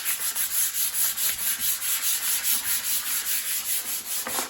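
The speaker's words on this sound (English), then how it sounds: "I'm going to sand all over." Fabric-covered tabletop rubbed with 400-grit sandpaper in quick, steady back-and-forth strokes, a close, rhythmic scratchy hiss repeating about four times per second.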